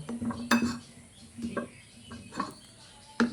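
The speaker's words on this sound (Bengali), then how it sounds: "এবার এই আলুগুলোকে ভালো করে ধুয়ে নেব।" Cut long potato sticks are washed in a bowl, with scattered clinks and knocks of potatoes and utensils against the dish at close range, separated by quiet gaps.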